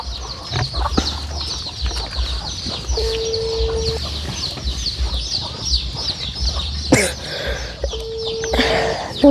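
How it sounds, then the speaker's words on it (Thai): Chickens cluck and a rooster calls repeatedly in a farmyard, close and fairly loud, with bird chirps and rustling around them. "โอ้ไก่"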